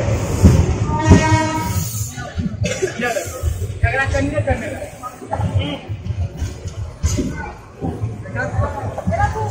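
A passenger train pulls into Lucknow station, its steady wheel and carriage rumble running underneath continuous nearby conversation and occasional laughter.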